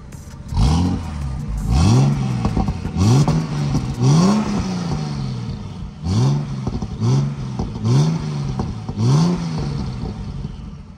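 A tuned turbocharged SUV engine with a freer-flowing exhaust is revved repeatedly, giving about eight loud, throaty blips that rise and fall in quick succession, each ending in a brief clattering exhaust burble.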